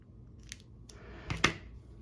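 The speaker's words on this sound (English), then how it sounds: "I'm going to go ahead and just cut it off." Scissors cutting yarn while crocheting a corner-to-corner pumpkin, a few quiet snips followed by a sharper double snap of the blades close by in an otherwise quiet room.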